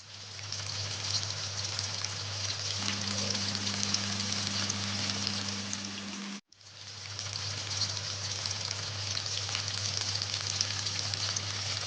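Chilli bajji deep frying in hot oil, a steady dense crackle and hiss that runs on without pause, broken once by a short dropout before the sizzle resumes at the same level.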